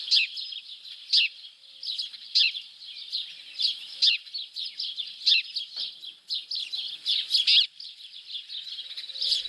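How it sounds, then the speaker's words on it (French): House sparrows chirp busily in a garden while drinking, giving a steady stream of sharp, bright, overlapping chirps close by, with short pauses between bursts and nothing else audible. "les inévitables moineaux domestiques, toujours aussi bruyants et dissipés, viennent eux aussi se désaltérer"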